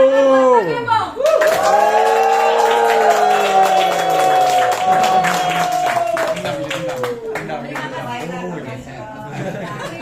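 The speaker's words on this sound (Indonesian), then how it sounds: "saya minta hari ini tepuk tangan sambil kita ngomong yang panjang ya" An audience claps in rhythm while a crowd of voices holds a long, drawn-out shout over it. The loud clapping and voices run together for several seconds before tapering off.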